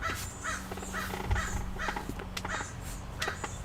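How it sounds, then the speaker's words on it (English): Several crows caw in short, scattered bursts at a moderate distance over a soft outdoor background, with no voices. "Crow sounds."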